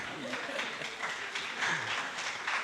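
An audience at an event on international arbitration claps in scattered applause, with a voice talking over it.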